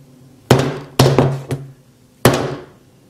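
A 2.5 pound hammer is dropped onto an iPhone 6s, giving several sharp, close thuds and clacks with short rattles between them, loud against a quiet room.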